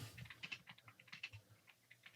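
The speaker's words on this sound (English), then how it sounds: "Who's typing?" Rapid typing on a computer keyboard in a podcast studio, a quick irregular patter of soft key clicks heard faintly in the background, with no talk over it.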